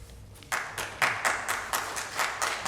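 Brief scattered applause from the audience at a school board meeting, a handful of claps ringing out in a quiet room, fairly faint and irregular and lasting only a couple of seconds.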